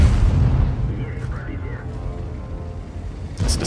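A tank's main gun fires in World of Tanks as an Object 430U, giving a loud, dull boom that rumbles through a continuous roar of engine and battle noise, with a sharper burst near the end.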